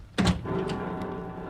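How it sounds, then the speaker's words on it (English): A door opens with a heavy mechanical clunk and brief rattle, followed by a low sustained hum that carries on after the opening in an otherwise quiet interior. "I'll open the door."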